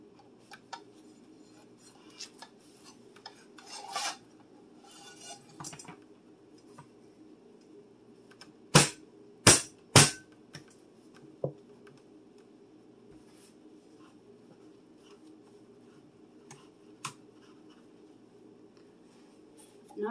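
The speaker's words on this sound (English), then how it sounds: "And kind of bang the top." Three sharp, loud metallic bangs in quick succession as an upturned muffin pan of homemade banana muffins is struck on top, set against quiet kitchen background with a few faint taps and rustles before and after.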